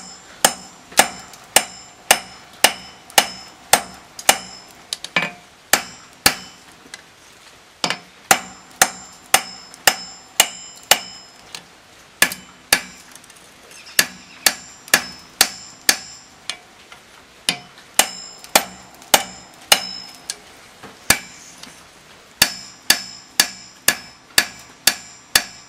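Hammer forging finger grooves into a knife blade on an anvil: loud, sharp ringing metal strikes in quick rhythmic bursts, with brief pauses between runs, close and without talk.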